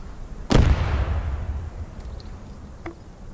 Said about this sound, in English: Let me fire another grenade into there.